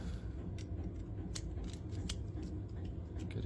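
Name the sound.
C-clip pliers being handled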